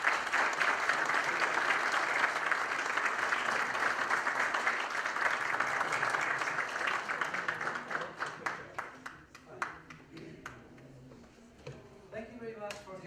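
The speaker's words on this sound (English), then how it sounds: "Please give a strong applause to him." Applause for a university rector at Universidad Politécnica de Tulancingo in Hidalgo: a dense crowd clapping fills the hall, then thins into scattered individual claps before a final brief burst.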